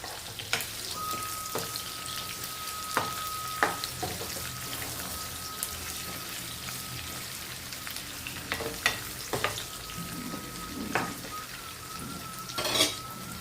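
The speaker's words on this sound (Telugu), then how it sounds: "బాగా వేగిన తర్వాత మనం వేసుకుందాం వంకాయలు వేసుకుందాం" Eggplant fries in hot oil in a pan, a steady close sizzle broken by scattered clinks and scrapes of a utensil stirring against the metal.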